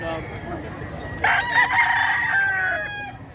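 A Boston Roundhead rooster at the Bocaue pet market gives one loud, close crow lasting about two seconds, with low market chatter and clucking around it.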